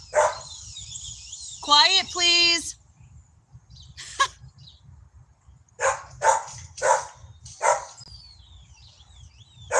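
Several sharp dog barks, a quick run of four or five near the end, come from dogs reacting to a woman outdoors. She speaks once early on, and a low rumble persists beneath.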